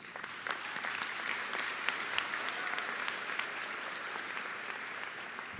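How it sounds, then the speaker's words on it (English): A large audience at a Class of 2023 high school commencement applauds the group that performed the national anthem; steady, dense clapping fills the whole stretch at an even, sustained level with no one speaking over it. "One more round of applause for that group, please."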